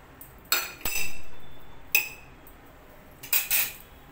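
Boiled potatoes being smashed in a bowl for pani puri curry, heard as a few sharp metal spoon clinks and scrapes against the dish with soft squashing between them, close up and without talk.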